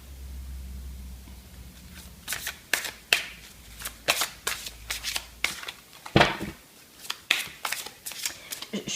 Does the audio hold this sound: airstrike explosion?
no